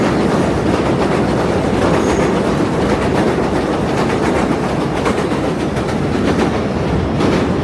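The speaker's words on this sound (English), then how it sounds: "All right, train's loud." A train rumbles past loudly and steadily in New York City, with a continuous roar of wheels and rattling carriages close by and no voices.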